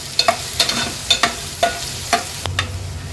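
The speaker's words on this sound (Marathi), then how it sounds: "कांदा शिजवताना गॅसची फ्लेम मी लो करते" A single chopped onion frying in a pan over a low flame, a soft continuous sizzle broken by regular scraping stirs about twice a second, close up with no talking.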